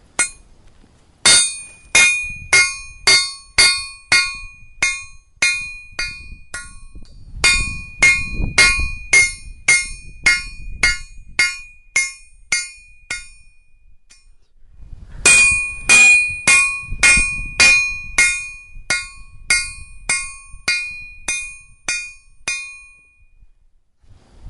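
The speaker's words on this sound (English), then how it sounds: "are going to be now forging that nice hot chunk of metal right there" A hammer forges a hot railroad spike into a knife, striking in fast, bright, ringing bursts of a dozen or more blows, with short pauses between runs and no talking.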